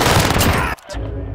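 Loud, close burst of rapid automatic gunfire in a shooter video game that cuts off abruptly, followed by a brief quieter stretch of continued shooting.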